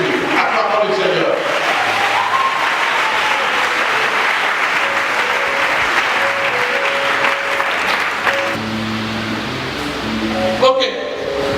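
A church congregation claps loudly and steadily throughout a French-language worship service, a dense sustained applause with scattered voices and cheers mixed in, swelling briefly near the end.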